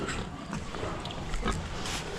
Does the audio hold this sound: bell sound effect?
no